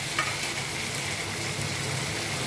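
Tamarind water hits sautéed onions and tomatoes in a pot, bringing a sustained bright sizzle and bubbling hiss at moderate loudness, with one brief splash at the start and no voices.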